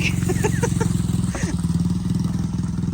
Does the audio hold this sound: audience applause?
no